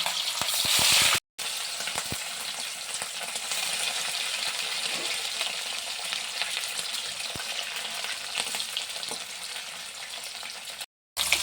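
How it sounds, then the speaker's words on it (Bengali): Pieces of rohu fish, about 750 grams, fry in hot smoking oil with a continuous loud sizzle, broken twice by brief dropouts. "এই রুই মাছগুলো আমি একবারে তো হবে না, দুবারে আমি মাছটাকে ভাজবো।"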